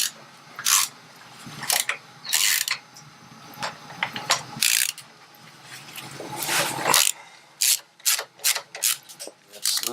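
A ratchet wrench clicks in quick bursts while loosening bolts on Harley-Davidson motorcycle forward controls, close and loud, with pauses between runs of rapid clicking.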